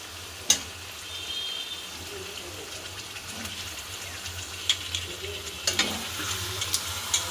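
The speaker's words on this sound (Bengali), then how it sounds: "এবার আমি এর মধ্যে ম্যারিনেট করা মাংসগুলো দিয়ে দেবো" Marinated chicken cooks over fried onions in a pan with a steady, moderate sizzle. A few utensil taps and stirring sounds come through, with no talk.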